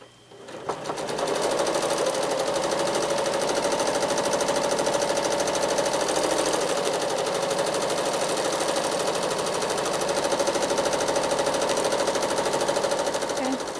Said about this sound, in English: So I'm just going to stitch some stippling right here.